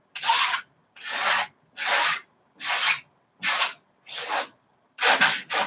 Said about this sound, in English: Let's scrape some off.